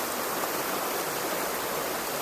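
Spring water gushes from a bamboo pipe in a bamboo forest, a steady close hiss and splash that runs evenly.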